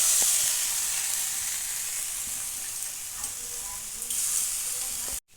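Coconut paste with mustard, poppy seed and green chilli paste cooks in white oil in a pan as parwal stuffing is stirred, giving a steady close frying sizzle and hiss throughout with faint scrapes.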